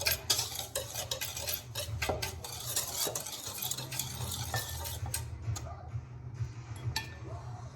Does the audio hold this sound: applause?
no